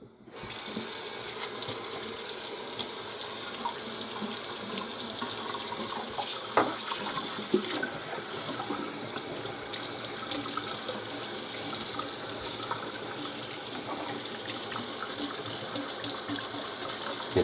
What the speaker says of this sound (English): Now we'll give it a quick rinse.